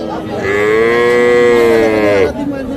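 A single long, loud moo from a calf or cow rings out close by at a cattle market in Hazratpur, swelling steadily and then cutting off, with faint crowd noise underneath.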